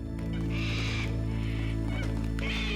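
Cockatoos screech in harsh, loud bursts around old sulphur-stained mine workings, three raucous calls in quick succession over a steady low hum.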